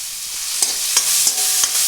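Chopped onions fry in a pan, a soft continuous sizzle marked by four or five sharp scraping stirs spaced roughly a third of a second apart.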